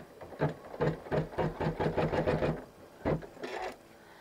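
An embroidery sewing machine in a magnetic hoop stitches a quilt, giving a quick run of rhythmic mechanical needle bursts, a brief pause, then two more short bursts, close and clear.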